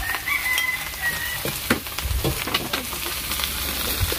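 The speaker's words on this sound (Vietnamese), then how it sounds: "Nếu muốn xào tỏi rất là thơm nha cả nhà." Garlic stir-fries in a pan with a steady, close sizzle and scattered scraping stir strokes, while a rooster crows faintly in the background.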